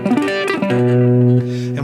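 A fast electric guitar arpeggio rake lick, a quick run of plucked notes ending on sustained ringing notes, played solo and close.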